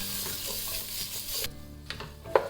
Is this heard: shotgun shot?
no